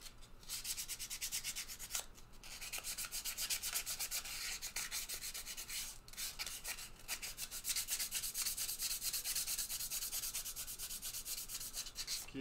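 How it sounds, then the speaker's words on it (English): Sandpaper rubs steadily back and forth while a surface is being cleaned, giving a close, continuous scratchy rasp with brief breaks in the strokes. "A little bit of sandpaper."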